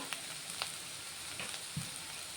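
Bitter gourd frying in a pan, a continuous soft sizzle with a few small crackles, close and fairly quiet, with no voices.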